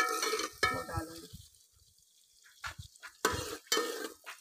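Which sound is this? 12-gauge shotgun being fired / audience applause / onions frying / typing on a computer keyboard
onions frying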